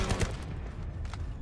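Gunfire from a shooter video game, a dense burst of shots in quick succession with a sustained rattling tail, fairly loud and steady throughout the short stretch.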